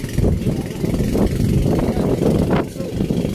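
A Hino engine drives a large fishing boat with a loud, rough, continuous low rumble and a few surges in volume, while people talk over the noise.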